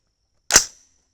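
A single sharp rifle shot from a .308 Win loaded with Lapua brass, a 175gr Sierra Match King bullet and 42.0 grains of IMR 4064, cracks loud and close, then fades in a short decay.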